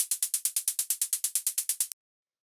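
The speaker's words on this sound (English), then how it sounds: "This is a really simple analog style hi-hat." Crisp analog-style hi-hat from a rave techno track ticks in a fast, even run of about fifteen short bright hits, then stops abruptly into silence.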